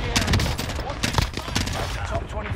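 Dense, rapid video-game gunfire from a multiplayer shooter match, bursts of shots running almost continuously and loud, with a player's voice talking over part of it.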